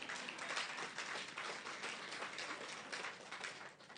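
A crowd at a justice innovation regional finals event in Lagos claps, making a faint, distant, continuous patter of applause.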